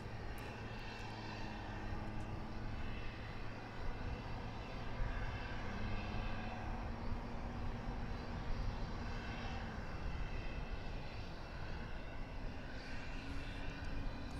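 An airliner arriving from El Paso approaches DFW Airport with a faint, steady engine drone that holds evenly throughout, far off and with no voices.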